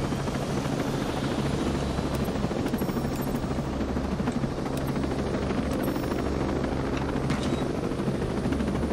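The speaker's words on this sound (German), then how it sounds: "Oh, sogar ein Heli mit Miniguns." Military helicopter fitted with miniguns in the video game Ghost Recon Breakpoint, its rotor and engine drone running loud and steady throughout, with faint distant effects on top.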